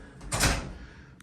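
Entrance doors of an old bank building swing open with a single muffled thud and rattle, followed by a faint click as they settle, heard close in a quiet lobby.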